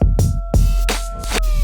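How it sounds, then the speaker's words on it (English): A reverse kick drum played on a Pioneer CDJ pulses in a fast, steady rhythm, each beat a swelling low thump that cuts off sharply, with a sustained tonal hum running underneath. "Now listen to how the reverse kick sounds."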